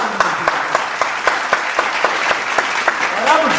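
Studio audience at a student game show applauds in steady, evenly spaced rhythmic claps, fairly loud and close, with a faint voice rising near the end.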